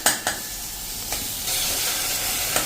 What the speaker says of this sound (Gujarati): હવે આમાં આપણે 1 કપ જેવું પાણી નાખી દઈશું.